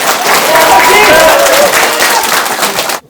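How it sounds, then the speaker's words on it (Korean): Loud, dense applause fills a hall at the launch of a People Power Party election campaign committee in Boryeong and Seocheon, mixed with crowd noise and a few voices, running steadily for about three seconds before stopping abruptly. "승리의 그날까지 열심히 뛰라는 의미로 힘찬 격려의 박수 아유. 부탁드리겠습니다."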